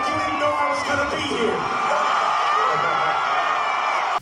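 Large stadium crowd roaring and cheering at a Super Bowl halftime performance in Detroit, a dense, continuous wall of shouts and whoops filling the whole stretch at steady loudness.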